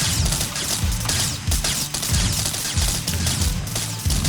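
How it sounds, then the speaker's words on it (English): Mortar fire in the video game TerraTech, heard as repeated heavy booming thuds in a loose, irregular rhythm over a dense, continuous din of battle noise. "see if I can drop these mortars in from above"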